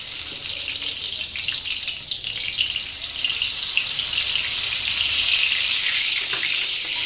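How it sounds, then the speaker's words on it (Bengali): White oil and cumin seeds sizzle as a tempering in a pan, a bright, steady crackling hiss that is close and continuous, growing slightly louder toward the end. "দিয়ে দেবো সাদা তেল, দিয়ে দেবো সাদা জিরে ফোড়ন"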